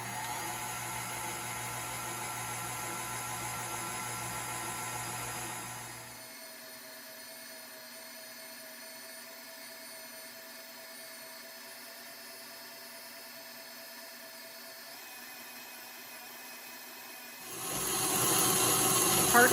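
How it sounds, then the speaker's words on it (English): An aging electric mixer whips meringue with a steady, high-pitched whining drone that runs continuously and close. It shifts to a lower, quieter tone partway through and then rises in loudness again near the end. "Pardon the noise of my little mixer that could."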